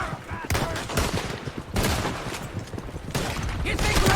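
Gunfire in a Red Dead Redemption II shootout, repeated loud shots crackling in bursts with bangs close together over background game sound.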